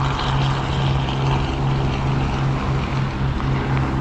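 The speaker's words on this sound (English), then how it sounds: "Oh, there's a helicopter." A steady droning engine hum with a constant low buzzing tone, like a helicopter passing at a distance, with no talking.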